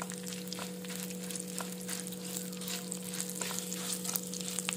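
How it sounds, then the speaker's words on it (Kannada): Mustard seeds, cumin, chana dal and urad dal splutter in hot oil for a cucumber chutney tempering, giving a dense, continuous crackling sizzle with tiny pops, close and steady, with no voices. "ಸಾಸಿವೆ, ಜೀರಿಗೆ, ಕಡಲೆಬೇಳೆ, ಉದ್ದಿನಬೇಳೆ ಎಲ್ಲ ಹಾಕ್ಕೊತಾ ಇದ್ದೀನಿ, ಸ್ವಲ್ಪ ಸಿಡಿಲಿ"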